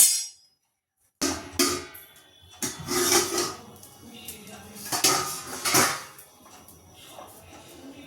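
A metal stand clanks and scrapes into a pot of heated salt in a home kitchen, with several loud metallic knocks and rattles following a short silence.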